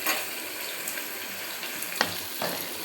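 Green chilies and tomato sauté in a hot pan at home, a steady close sizzle with faint scraping clicks throughout, no voices.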